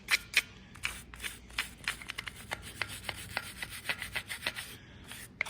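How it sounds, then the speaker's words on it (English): A soft bristle brush scrubs a John Deere engine coated in degreaser, making rapid, rhythmic rasping strokes up close. "This is a soft bristle brush"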